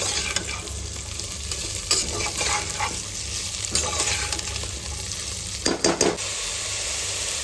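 Cauliflower florets being stirred into spiced masala pulao in a hot pan, a steady sizzle with repeated scraping stir strokes and a few louder clatters near the end.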